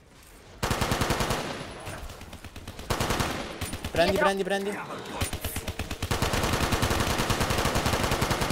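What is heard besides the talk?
gunfire in a video game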